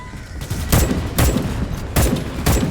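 Gunfire in the video game Starship Troopers: Extermination, heard as loud, close bursts of shots spaced about half a second apart, each with a heavy booming thump, over a constant hum of the game's action.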